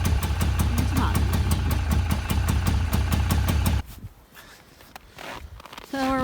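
An engine idles in the extreme cold of about minus 33 degrees near Temagami, with a rapid, even, close chugging pulse that cuts off abruptly, followed by quieter crunching noises outdoors.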